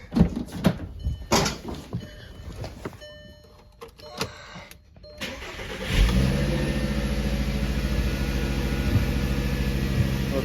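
A VW GTI hatch with a freshly resealed vacuum pump on a 2.5 engine: after some clattering workshop handling sounds, the engine cranks and catches near six seconds, then settles into a loud, steady idle hum to the end.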